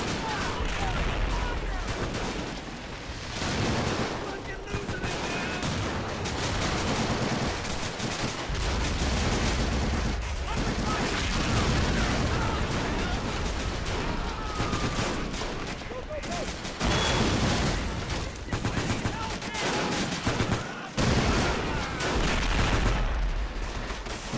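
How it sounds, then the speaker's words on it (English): Dense machine gun fire and scattered gunshots rattle on continuously through a Pacific mod video game amphibious Marine assault on Tarawa, a loud, busy battle din with voices faintly mixed underneath. "We have an entrenched machine gunner here as well."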